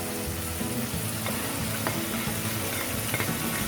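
Tomatoes added to a spiced masala frying in a pan for lobia curry, a close, even sizzle with stirring clicks and a few sharper spatters.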